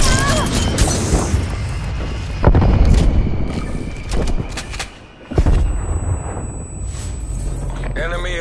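Booming explosions and bursts of gunfire from an air strafe run in the Call of Duty Cold War video game, loud and repeated in several heavy blasts, with game voice callouts over the top.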